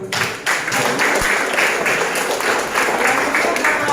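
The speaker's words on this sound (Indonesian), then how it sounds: "Luar biasa, kita kasih aplaus." Classroom applause from a group of pupils, loud, dense and sustained clapping close by, with a brief voice at the start.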